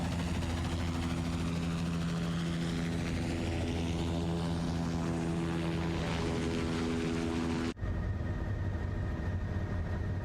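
A Dreamfoil Bell 206 helicopter in the X-Plane 12 flight simulator passes by over São Paulo, its steady rotor and engine drone loud and continuous, sweeping in pitch as it goes, then cutting abruptly to a quieter, more distant hum.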